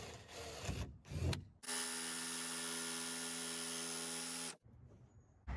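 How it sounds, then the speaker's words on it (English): A jigsaw cuts a wood panel during a vintage caravan restoration, a loud close steady whine of about three seconds after a few short handling knocks, stopping abruptly. "I'm just going to get the jigsaw in here because I don't want to waste this piece by cutting"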